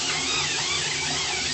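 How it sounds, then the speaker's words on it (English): A battery-powered electric scrub brush motor strains in a brief, steady buzzing whir, close up and alone, sounding labored but continuous. "the scrub sounds like it's struggling, but it's working"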